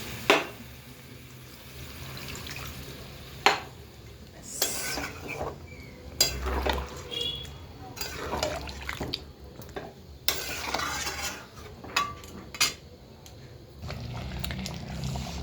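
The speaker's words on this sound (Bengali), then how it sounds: "আমি এবার জল দিয়ে দেবো, গরম জল করে রেখেছি, দিয়ে দেবো" Hot water poured into a pan of cooking chicken curry, with a soft liquid pour, clinks of metal utensils against the pot and intermittent stirring close by.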